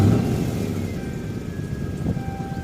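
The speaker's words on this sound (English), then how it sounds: "let's go ahead and start her up." A Lexus SC400 with an automatic transmission idles steadily up close, a loud low engine rumble with a faint whine running through it.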